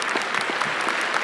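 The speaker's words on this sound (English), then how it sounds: "give them all a round of applause." Dense, continuous applause from a large crowd at a university commencement ceremony, loud and even for the whole moment.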